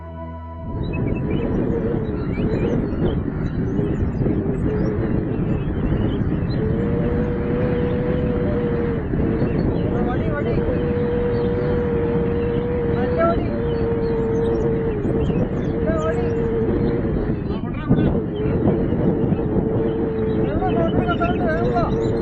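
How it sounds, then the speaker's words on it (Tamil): A loud, steady roar of strong wind blowing continuously, with a low droning hum running through it and no break throughout. "திடீர்னு வேகமா காத்தடிக்க ஆரம்பிச்சது."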